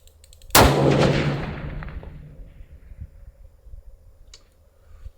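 A single sharp, loud crack from a .338 Lapua Magnum rifle fired at a target about a mile away, followed by a long rolling echo that slowly fades over several seconds.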